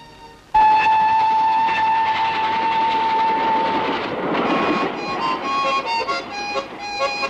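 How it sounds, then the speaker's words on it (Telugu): A train horn blares loudly and holds steady, then fades into the rumble and rattle of moving rail cars passing close by. "ఇవాళ రైలు నిండా సిపాయిలు బయలుదేరుతున్నారు"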